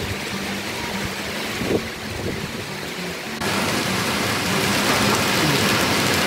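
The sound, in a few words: hailstorm with wind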